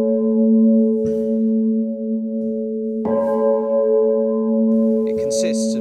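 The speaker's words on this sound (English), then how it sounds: "It consists of two quarter-tone bells" Two quarter-tone bells of the Harmonic Canon, designed by sculptor Marcus Vergette, ring with long sustained overlapping tones, freshly struck at about one and three seconds, with a brighter shimmer near the end.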